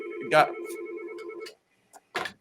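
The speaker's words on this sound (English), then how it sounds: "If you heard that phone." An office telephone rings with a repeating electronic trill, loud and close, briefly overlapping a person talking before cutting off, followed by a few short clicks and rustles.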